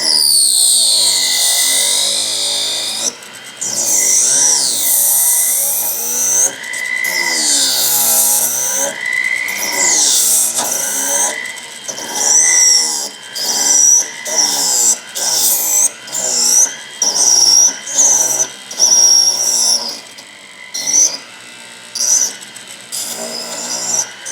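Wolf Wax Trimmer shaving the outer edge of a wax ring, a close high-pitched whine with rapid warbling pitch sweeps that grows choppy and intermittent in the later half as the cut is made in short passes.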